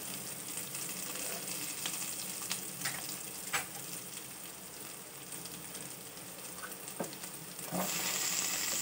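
Dried fenugreek leaves (kasuri methi) fry in a pan with a soft, steady sizzle, punctuated by a few faint taps and stirs and a brief louder hiss near the end.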